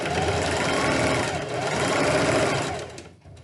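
A sewing machine stitches elastic onto a fabric face mask, a steady, close, continuous mechanical whir that runs unbroken and then eases off and fades near the end.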